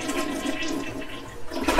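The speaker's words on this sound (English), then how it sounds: "just bring it back, go ahead and flush it." A household toilet flushes after being unclogged with a homemade rag-and-wire snake, a steady close rush and swirl of water with no talk.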